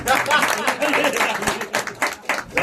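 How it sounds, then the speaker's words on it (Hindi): A small group claps at a family celebration, a brisk scatter of handclaps mixed with overlapping voices, moderately loud and close, the claps thinning into separate bursts toward the end. "बजाई ताली।"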